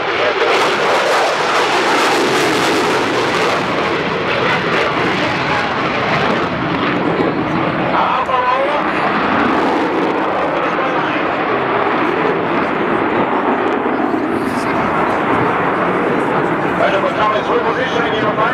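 An Italian Eurofighter Typhoon flies its air show display at Leeuwarden in 2011 with a loud, continuous jet roar throughout, and a commentator talks over the noise.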